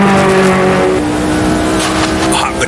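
A classic late-1970s era Formula 1 car, a Lotus 79 contemporary, in Automobilista 2, its engine roaring loud and close with a steady high-pitched tone that wavers as it is coaxed through corners, tires faintly scrubbing.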